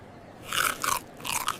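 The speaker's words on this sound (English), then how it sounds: "The fries are crunchy." Crunchy fast-food fries are chewed up close, three distinct crisp crunching bites in a short uneven rhythm over quiet background.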